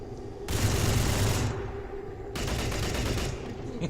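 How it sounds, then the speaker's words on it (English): Firing-squad volley in the video game XCOM 2, two loud bursts of rapid overlapping gunfire, each lasting about a second, separated by a short pause. "Firing squad!"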